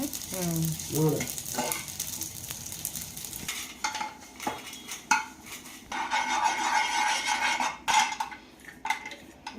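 Cashews and raisins fry in ghee with a continuous sizzle as a utensil clatters and scrapes against the pan, with several sharp metallic knocks.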